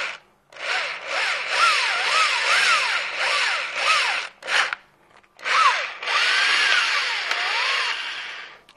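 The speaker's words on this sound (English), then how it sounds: "Getting crazy with the drill just makes it fly all over the place" A power drill bores into a Kydex holster in several long, whining bursts, with the motor pitch rising and falling between them and short pauses, loud and near with no talking.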